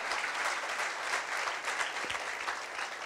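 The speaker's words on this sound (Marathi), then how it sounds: "परत एकदा या चौघांसाठी जोरदार टाळ्या." An audience at a family 94th birthday celebration gives four performers a warm round of steady clapping, close and continuous for a few seconds.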